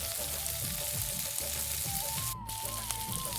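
Paneer bhurji with soft tomato, salt and turmeric cooking in a pan over medium-low flame, a continuous close sizzle with faint stirring scrapes, steady and unbroken with no talk.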